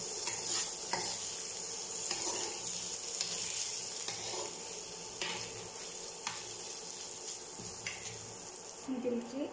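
Rice stirred into sizzling masala in a pan, a steady close frying hiss with repeated scraping stir strokes and occasional clinks of the spoon against the pan.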